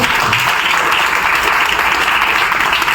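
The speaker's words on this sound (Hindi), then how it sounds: "ताली बजाएंगे एक बार" A church congregation at a revival meeting in Delhi claps together in steady, dense applause, loud and close throughout with no break, rather than a single clap.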